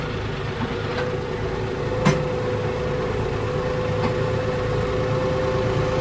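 A tractor engine rumbles steadily at close range, a constant low drone holding one gear, with a single faint knock partway through.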